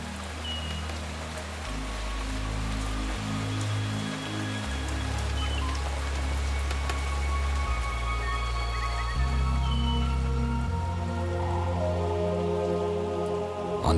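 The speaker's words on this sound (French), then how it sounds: "En novembre, lorsque le mont Otemanu arrête les nuages, il pleut jour et nuit." Heavy rain falls on an island in French Polynesia near Mount Otemanu, a continuous dense patter of drops on surfaces with a low steady rumble, sustained and fairly loud throughout.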